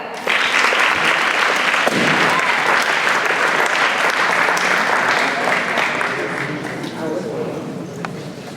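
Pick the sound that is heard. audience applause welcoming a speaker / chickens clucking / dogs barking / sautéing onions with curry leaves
audience applause welcoming a speaker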